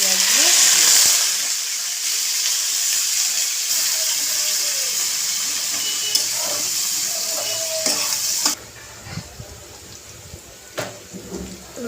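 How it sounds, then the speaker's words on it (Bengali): Onions dropped into hot oil in a pan while cooking a chicken dish, a loud continuous sizzle that drops to a quieter crackle partway through, broken by scattered clinks of stirring, with no talk. "আমি পেঁয়াজগুলো"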